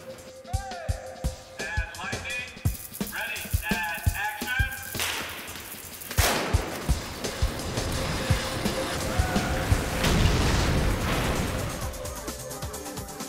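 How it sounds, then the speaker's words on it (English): A miniature film set piece is blown up for a special effect on a siege set. Sharp cracks and pops open the clip, then a loud blast around the middle gives way to a sustained roaring, crackling rumble with scattered debris impacts. "Everything we make, we blow up."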